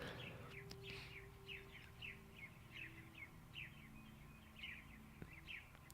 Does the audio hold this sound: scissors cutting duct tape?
no